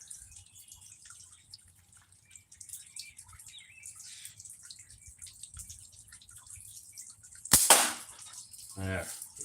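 A single sharp, loud shotgun blast at clay targets cracks out near the end of an otherwise quiet outdoor scene with faint birds, followed shortly by a smaller thump.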